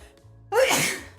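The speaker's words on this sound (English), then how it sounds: "I have to sneeze." A single sharp human sneeze bursts out suddenly after a quiet moment, loud and close, with a breathy airy tail.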